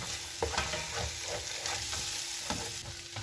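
A steady, moderately quiet sizzle and rhythmic stirring scrapes as sautéed tomato, chilli and onion are mixed with scrambled egg in a pan for egg rice, with no voices.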